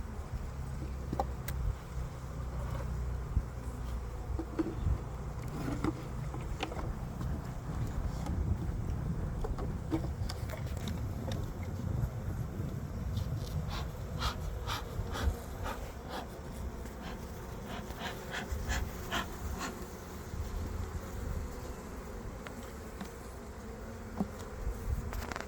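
A steady, low buzzing hum of many honeybees close by in an open hive, with occasional clicks and light frame-handling noises, no voices.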